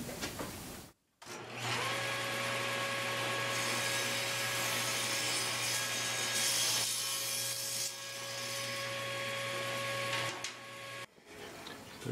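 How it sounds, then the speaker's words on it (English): A table saw rips a thin strip of wood off a tenor guitar neck, guided by a jig against the rip fence. After a brief pause, a loud, steady whining cut runs for about ten seconds and then drops away. "I have my table saw set up."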